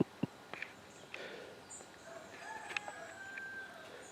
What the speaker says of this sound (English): Morning is coming, the cock is crowing.